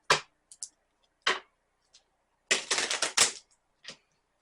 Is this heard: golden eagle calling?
no